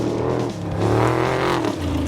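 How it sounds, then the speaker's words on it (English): A Class 1 off-road race car engine runs loud and close, its harmonic roar rising and falling as the throttle is worked, with no talk over it. "I drive this Class 1 car behind me."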